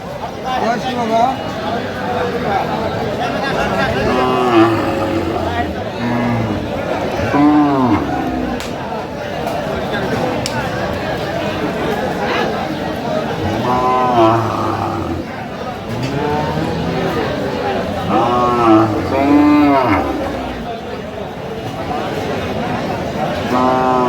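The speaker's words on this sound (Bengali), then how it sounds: "গরুগুলো" Cows with calves at a busy rural cattle market (Aftabganj haat), lowing now and then among constant crowd chatter and people talking nearby, a dense, steady hubbub throughout.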